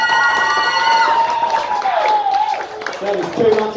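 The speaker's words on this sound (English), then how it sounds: "Applause if you want to see the next comedian." A comedy club audience claps and cheers loudly for the next comedian, a dense wash of applause with a few shouts and whoops rising over it, plus a sustained tonal sound early on.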